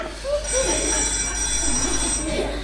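A mobile phone rings with a steady, high electronic trill over a noisy, murmuring room.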